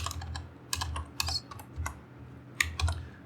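Code being typed on a computer keyboard, a quick irregular patter of close key clicks with brief pauses and a few sharper strokes, with no voice over it.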